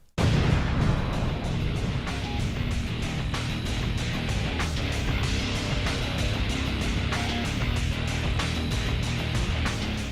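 Cannon weapons fire again and again in a Sonic the Hedgehog video game, a dense run of sharp booming blasts layered over a constant low rumble, loud and steady throughout with no talking.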